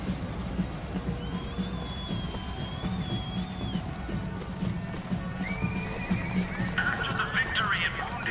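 In the video game Bioshock Infinite, a horse whinnies in a long wavering call, then gives shorter neighs toward the end. Its hooves clip-clop steadily over a low background rumble throughout.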